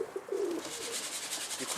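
A pigeon in a loft gives a low, soft coo of a few short rolling notes close by, set against a steady hiss of background noise.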